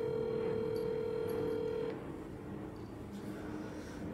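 A telephone call being placed gives a steady single line tone for about two seconds that then cuts off, leaving a quiet room hum with no talk.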